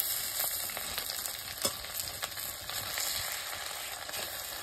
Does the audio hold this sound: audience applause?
no